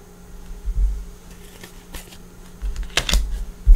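Oracle cards being shuffled by hand during a reading, soft papery riffles and taps at close range, quiet with a brisker burst of card sounds near the end, no talking.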